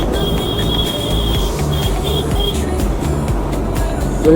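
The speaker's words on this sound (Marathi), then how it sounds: "हे truck and traffic, T means truck traffic" Heavy truck traffic on Ghodbunder Road in Thane, heard from a moving motorbike: a steady, loud broadband road roar with a thin high whine that comes and goes, swelling slightly at the end.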